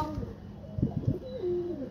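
Pigeons coo as they are called in to feed, giving a short cluster of low, throaty coos near the middle over a steady background murmur.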